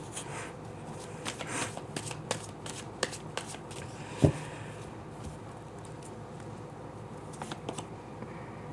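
Tarot cards are shuffled softly and close by, with faint, irregular riffles and slaps spread over several seconds and one sharper snap in the middle.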